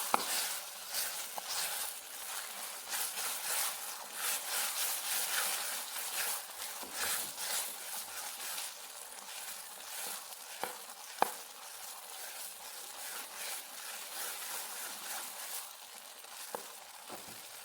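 Banana snack frying in a pan while being stirred, a faint, steady crackling sizzle with occasional sharp clicks of the spoon against the pan.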